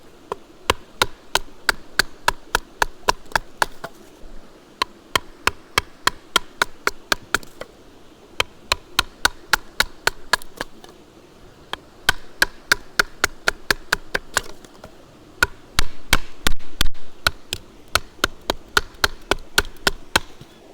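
HX Outdoors Rock survival knife with a full flat grind carving wood: rapid, evenly spaced sharp clicks and taps in quick bursts, with brief pauses between runs, close and fairly quiet.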